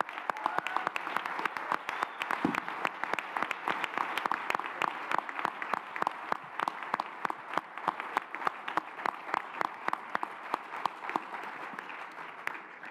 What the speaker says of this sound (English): please join me in a big applause for everybody here